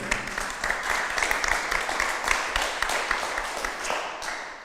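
A conference audience at an ecology round table applauds Corinne Lepage, moderately loud, steady clapping with a few sharper individual claps before it tapers off at the end.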